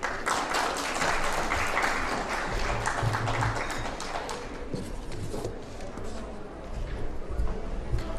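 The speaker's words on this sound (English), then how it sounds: "Let's have another round of applause for Miss Neeti Batra" Loud audience applause at a women's awards conclave, a large crowd clapping continuously with some low rumble and background murmur beneath.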